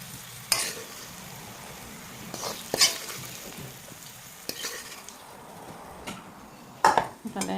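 Potatoes fry with turmeric in a pan and a utensil stirs them, giving a soft, steady sizzle with several sharp scrapes and clinks against the metal and no talking.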